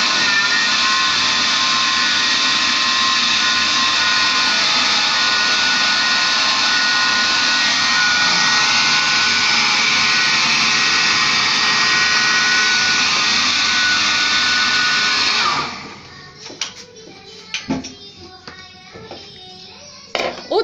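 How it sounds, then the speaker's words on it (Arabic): A Moulinex electric mixer beats apple cake batter with a loud, steady whirring buzz for about fifteen seconds, then cuts off. Scattered clinks and small knocks from the bowl follow. "ضربنا ثلاثة الضربات بالمولينكس"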